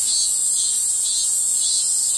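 Cicadas singing in a dense, continuous high-pitched drone, loud and unbroken throughout, with no voices present.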